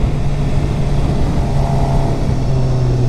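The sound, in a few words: 2013 Suzuki GSXR 750 four-cylinder sport bike engine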